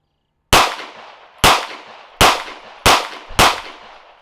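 Five sharp pistol shots fired at 7 yards, spaced irregularly about half to one second apart, each a loud crack with a short ringing decay.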